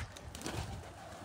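Faint, soft cooing from pigeons, low and muffled, heard briefly against a noisy background on a cold day, with no voices.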